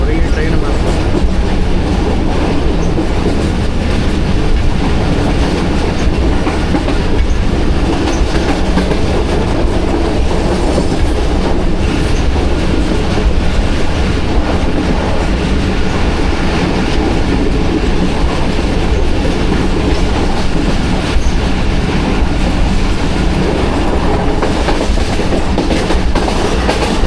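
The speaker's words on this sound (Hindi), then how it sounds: "सिहाला से थ्रू पास हो रही है ट्रेन हमारी।" A train running through Sihala station without stopping, on the Rawalpindi to Lahore line, rumbles steadily and loudly with rhythmic wheel clatter throughout, heard from aboard the moving carriage.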